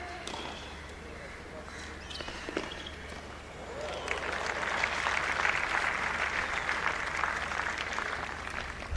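A crowd at a women's WTA tennis match in Mumbai breaks into applause after a rally, the clapping swelling midway and holding steady as a commentator talks over it.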